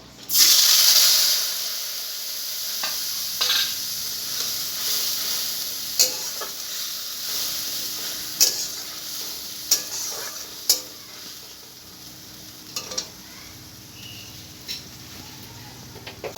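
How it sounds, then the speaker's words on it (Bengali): Bay leaf, cumin, coriander and dry chilli spices hit hot oil with a loud hiss, then keep sizzling steadily under repeated sharp scraping stir strokes, close by with no talking. "আর দেবো তেজপাতা আর এখানে যে মশলাটা আমি মিশিয়ে নিয়েছি জিরে ধনে আর শুকনো লঙ্কা আমি এটা দিয়ে দেবো"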